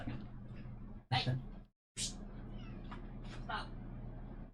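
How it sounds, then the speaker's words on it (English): A house cat meows insistently to be let out of a room, several close, sharp cries over low room hum and a muffled voice, one short loud wail standing out. "the cat is trying to get out of my room, and it's not letting me do that"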